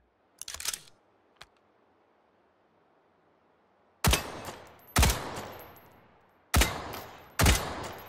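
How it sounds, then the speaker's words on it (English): Gunfire in the VR shooter Hot Dogs, Horseshoes & Hand Grenades, a weapon set to burst mode: after a few early clicks and a quiet gap, four loud, sharp bursts ring out close up, each followed by a brief decay. "So this one has, instead of full auto, it's got burst. So we're gonna try that out."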